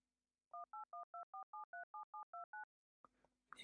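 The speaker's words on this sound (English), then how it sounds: "This is like an old school ring kind of phone dial thing." An old-school telephone dial sound generated by a Max for Live patch: a quick, evenly spaced run of about eleven clean two-tone keypad beeps, followed by a short burst of noisy sound.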